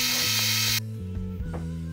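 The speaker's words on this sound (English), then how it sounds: "drilling the holes in this, making them bigger and whatnot, is going to be less invasive" Drill boring into a G&L Placentia guitar body to enlarge holes: a loud, steady whirring drone that cuts off abruptly, followed by quieter mechanical ticks and a lower hum.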